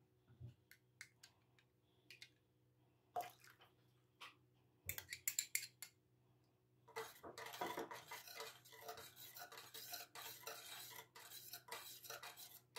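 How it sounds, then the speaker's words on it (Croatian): Spoon stirring a batter or dough mixture in a bowl after dissolved yeast is added. Sparse clinks come first, then a steadier run of scraping and tapping. "I na kraju dodajte otopljeni kvasac i sve dobro izmiješajte."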